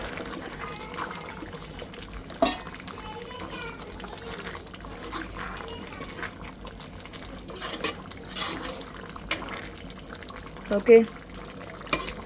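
Spice powder stirred into a boiling meat curry in a pot, with soft bubbling and scraping of a spoon, occasional clinks against the vessel, and someone talking intermittently.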